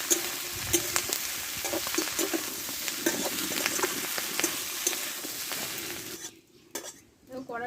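Spices sautéed in a pan over heat, with a steady oil sizzle and repeated scraping and stirring of a utensil against the metal, dropping away near the end.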